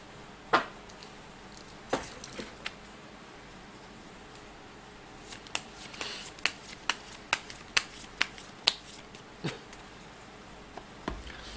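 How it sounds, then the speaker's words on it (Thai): Tarot cards are shuffled for a fortune reading, making a run of crisp riffling snaps and soft papery slaps close by, irregularly spaced against a faint background hiss. "เดี๋ยวจะมาเสี่ยงไพ่ดูให้เพิ่มเติมนะครับ"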